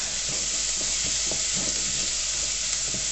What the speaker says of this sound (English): We're only going to fry the garlic for about 30 seconds to a minute at the most